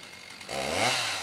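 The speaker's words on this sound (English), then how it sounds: "you hear the sound of a chainsaw in the background" A chainsaw whines steadily in the distance, its motor rising in pitch partway through and holding a sustained buzzing drone.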